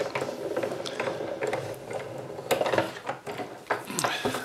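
A stencil cutting machine cranks a sandwich of two plates across its platform, giving a steady run of ratcheting, geared mechanical clicks and clunks at close range, with some metallic clatter and no talk.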